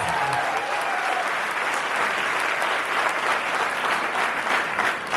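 A large audience at a Hindi poetry recital, a kavi sammelan, claps together in dense, sustained applause that holds at an even, loud level for the whole stretch.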